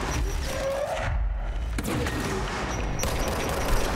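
Enemies in the video game Control firing grenades amid a dense, continuous barrage of gunfire and thumping blasts, loud and constant throughout with a brief low boom midway.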